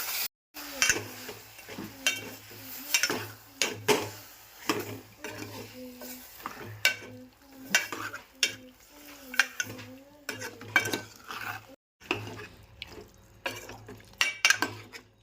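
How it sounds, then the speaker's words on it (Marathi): Washed chicken sautéed in a pan with turmeric, salt and onion, a spoon scraping and stirring in a steady rhythm against the metal over a soft sizzle, close up, with a low hum in the background. "असं परतून घ्यायचं थोडा दोन चार मिनटं"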